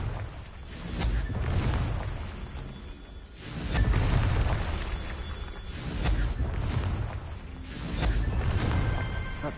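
Confringo fire spell blasts in Hogwarts Legacy, a series of loud, booming fiery explosions with whooshing bursts, each swelling and fading, close and heavy.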